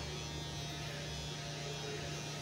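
An electric hair clipper switched on for a baby's haircut gives a steady, continuous buzzing hum throughout, close and fairly loud, with no break.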